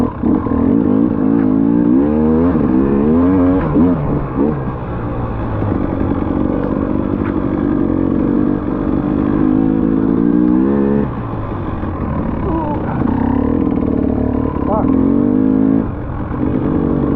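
Dirt bike engine at a hare scramble race, revving and rising in pitch in repeated bursts, loud and close, with clattering over rough ground and a voice speaking at times.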